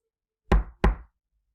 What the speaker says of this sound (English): knocked on the door twice